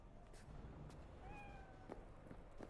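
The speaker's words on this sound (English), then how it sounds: "There's a cat." A cat meows faintly a few times in the Cyberpunk 2077 video game, brief rising cries over a quiet ambient game background.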